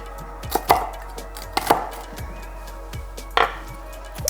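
A knife chops a hot chili pepper on a cutting board for red dal, three distinct, fairly close chops spaced about a second apart with quiet pauses between.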